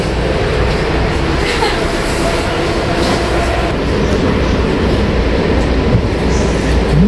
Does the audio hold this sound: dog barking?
no